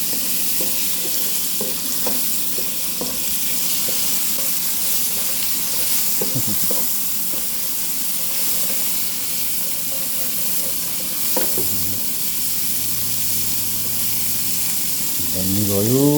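Chow mein noodles with spicy pork are stirred in a frying pan, a steady close sizzle with scraping and clinking spatula strokes throughout, and no talking.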